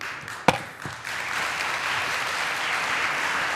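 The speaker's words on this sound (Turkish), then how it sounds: "Ben bu kadar coşkulu alkışlayamayacağım seni İzzet Bey gibi." A jury panel at a televised fashion competition gala claps, with a sharp early clap giving way to steady, sustained applause that fills the room.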